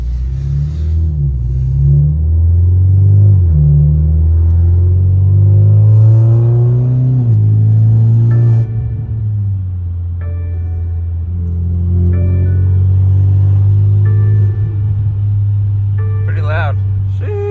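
A 2021 BMW 330i engine with an aftermarket downpipe rumbles and revs in short bursts, loud and close, with a few sharp pops from the exhaust.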